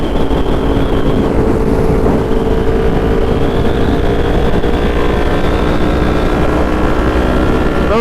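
Loud, steady engine drone from GSXR750 and ZX10R motorcycles fills the whole stretch, a dense close roar holding its pitch with only slight rises and no pause.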